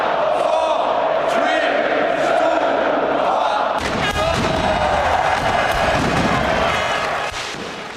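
Fireworks at Highbury stadium on the final match day, booming bursts and crackles that break out partway through over a loud, cheering football crowd, with a voice heard briefly.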